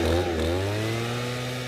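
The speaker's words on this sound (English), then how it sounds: "a person with a backpack engine setup, a big hose coming out, blowing leaves" A gas-powered backpack leaf blower engine drones loudly and steadily nearby, its pitch dipping slightly as it runs, with no talking.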